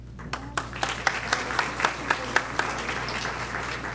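Audience applause welcoming a speaker at a health technology assessment lecture, a few distinct hand claps in loose rhythm over a quiet room hum, fairly sparse and close.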